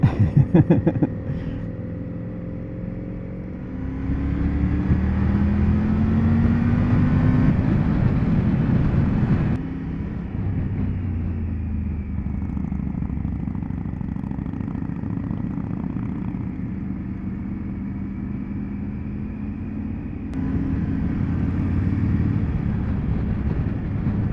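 Vintage motorcycle on a club run in Central Scotland, its engine note rising and falling in pitch as it climbs through revs, with abrupt changes at each gear shift amid steady road rumble.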